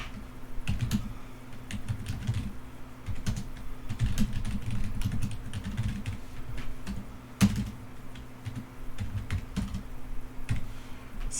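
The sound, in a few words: typing code on a computer keyboard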